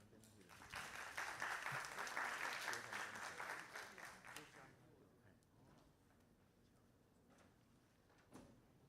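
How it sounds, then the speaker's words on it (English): Audience at a high school students' sustainability conference claps for student presenters in a brief burst of about four seconds that dies away into quiet room noise with a faint knock near the end. "Please give them a big round of applause."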